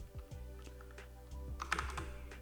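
Keys clatter on a computer keyboard during Python coding, a short burst of close, crisp clicks at an uneven typing rhythm over a faint hum.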